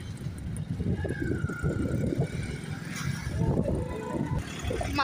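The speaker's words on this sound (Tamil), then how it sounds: "டிராஃபிக் ஆயிடுச்சுன்னு நினைக்கிறேன்." Road traffic on a rainy-looking day during a shopping trip, a steady close rumble of car engines with a passing vehicle tone and occasional horn-like notes throughout.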